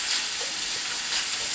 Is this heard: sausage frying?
yes